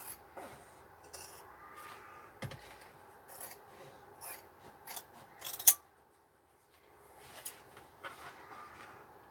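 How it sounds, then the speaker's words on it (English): Sharp scissors snip through velvet ribbon fabric in a series of quiet, crisp cuts and rasping slides, close and alone, with a brief louder snap midway and a short pause of near silence. "I love the noise that good scissors make."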